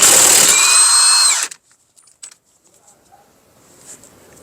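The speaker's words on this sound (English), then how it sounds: "Now remove your axle nut." A power tool whirs loudly for about a second and a half as it removes the front wheel axle nut on a PT Cruiser, then stops abruptly, leaving a few faint clinks and shuffles.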